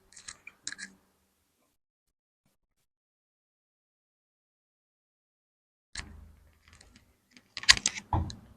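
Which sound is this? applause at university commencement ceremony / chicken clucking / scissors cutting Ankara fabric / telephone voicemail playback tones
scissors cutting Ankara fabric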